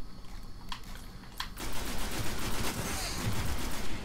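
Fusion rifle fire in the video game Destiny during a Crucible match: two brief charged bursts, then a dense, continuous crackling barrage of rapid shots that stays loud to the end.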